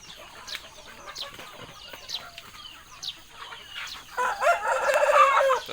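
A rooster crows loudly and close by, with softer clucks and other fowl calls scattered around it.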